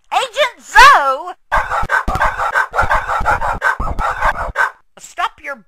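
Dog barking in a rapid burst of repeated yaps, loud and close, opening with a howling, crowing-like whine before the steady barks and ending with short yelps.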